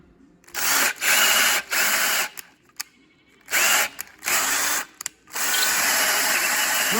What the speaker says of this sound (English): Just put the correct size tap in the drill, blind tap for a blind hole rather, and just run